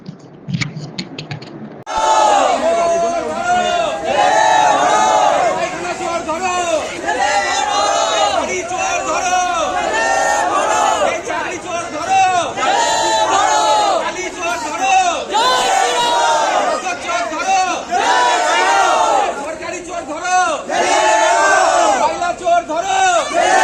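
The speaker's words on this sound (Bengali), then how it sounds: "তখন তাকে দেখে চোর ধরো জেলে ভরো স্লোগান দেয় বিজেপির কর্মীরা" A crowd of BJP workers chanting a political slogan in repeated rhythmic bursts at a street rally in Suri, loud and close, the many voices rising together again and again across the whole stretch.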